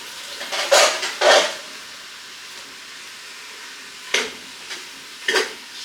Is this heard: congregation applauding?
no